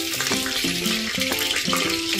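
Garlic sizzles in hot oil and ghee inside a pressure cooker, a steady broadband crackle with repeated bubbling pops, close and fairly loud with no talking.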